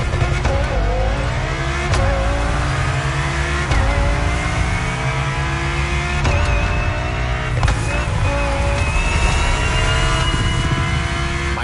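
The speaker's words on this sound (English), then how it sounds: "a day at Audi, with a focus on a luxury racing car" An Audi luxury racing car in The Crew Motorfest revs hard through repeated gear changes, its loud engine note climbing and dropping back at each shift, close and continuous with no talk.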